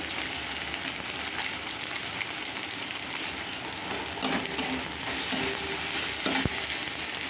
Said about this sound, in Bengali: এবার টমেটোটা দিতে আমি ভেজে নিয়ে আসছি